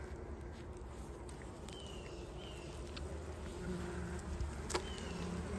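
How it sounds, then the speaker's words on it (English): A honey bee colony hums faintly around an open summer beehive in Ozark, a soft continuous buzz with occasional single bees passing close, and light handling noises now and then. "Look at this colony of bees right here, man."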